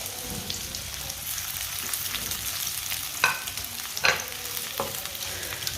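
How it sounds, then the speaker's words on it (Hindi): Finely chopped carrots sizzle in hot oil in a pan, a steady close frying hiss with a few sharper stirring scrapes and clinks along the way. "कटी हुई गाजरें डालेंगे।"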